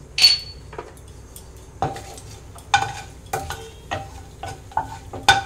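Whole cardamom pods and cinnamon sticks crackle in hot oil in a kadai, with scattered sharp pops and metallic stirring clinks against the pan in an uneven rhythm, close and clear with no talking.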